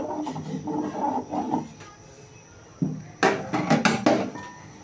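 Tea leaves are stirred in a pot while making Hyderabadi dum tea. Two bursts of scraping, knocking and clattering are heard close up, with a short quiet pause between them.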